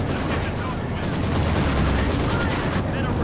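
Rapid machine gun fire in the WWII strategy game Company of Heroes, dense continuous bursts of gunfire over a rumbling battle backdrop, loud and sustained throughout.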